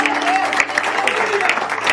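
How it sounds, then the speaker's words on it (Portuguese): Church congregation at a men's congress clapping steadily in rhythmic applause, loud and close, with a voice speaking over it. "Será que você pode aplaudir a Ele bem mais forte?"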